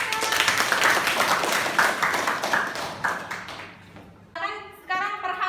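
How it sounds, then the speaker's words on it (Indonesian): A classroom of students applauds a classmate, a dense burst of clapping that fades out over a few seconds before a teacher begins speaking. "tepuk tangan untuk Syahdela"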